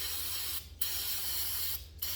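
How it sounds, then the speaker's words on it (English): Brake cleaner hisses in a steady, even spray from an aerosol can while a hydraulic ram from a Bobcat 743 is rebuilt, the hiss broken by two short pauses and continuing close and moderately loud. "so I'm just going to spray off to the side"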